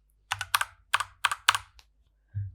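Keys tapped on a computer keyboard to enter a number into a code block, a quick series of five or six crisp clicks close by, with a soft thump at the end.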